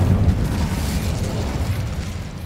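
The Incendio fire spell goes off in Hogwarts Legacy with a heavy, rumbling whoosh of flame, a low booming burst that starts strong and slowly fades over a couple of seconds.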